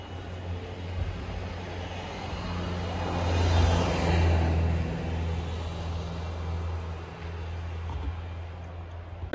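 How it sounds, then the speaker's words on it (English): Harley-Davidson Dyna Street Bob motorcycle on a short ride around the block in freezing weather, a steady low engine rumble that swells louder near the middle as it passes, with no talking. "I'm just gonna give it a quick ride around the block"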